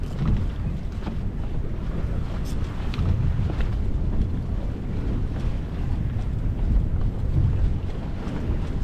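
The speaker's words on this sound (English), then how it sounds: "So we're pulling all the sails in so we can ride tight into the wind." Sailboat beating close-hauled into the wind with all sails pulled in, heading south at sea during hurricane season; a steady, loud rush of wind and water with low rumbling hull noise runs continuously, no talking.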